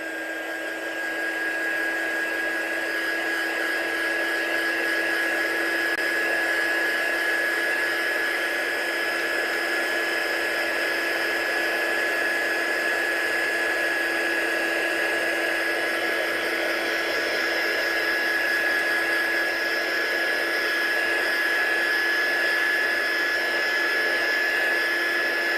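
A heat gun blows steadily to dry ink on a card, a constant close whooshing hum with a whining tone that runs unbroken and evenly loud throughout.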